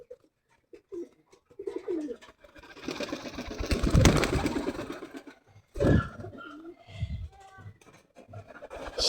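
A pigeon coos several times while pecking food from a person's hand indoors at a home, with soft, close murmuring calls and rustling, and voices talking intermittently around it.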